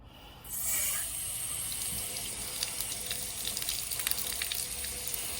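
Water from a garden hose gushes and splashes through the radiator of a Ditch Witch SK800 being checked for overheating, starting abruptly and then flowing steadily and close by, with no voices.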